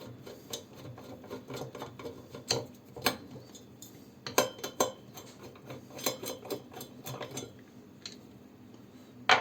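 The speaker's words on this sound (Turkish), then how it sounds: "Önce kulpunu çıkaracağım çaydanlığa." Light metallic clinks and taps scattered over several seconds, close by, as the handle is worked loose and removed from a metal teakettle.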